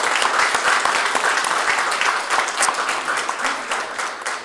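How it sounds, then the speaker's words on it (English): Loud, dense audience applause at a school district board meeting honoring a baseball championship team, steady clapping throughout that tapers slightly at the end. "that deserves a big round of applause"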